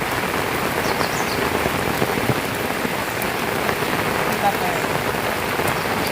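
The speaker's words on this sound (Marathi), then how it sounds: "हा पाऊस पडतो" Heavy monsoon rain pours steadily over rice fields in Lanja, a dense unbroken hiss of drops drumming on surfaces, with no break throughout.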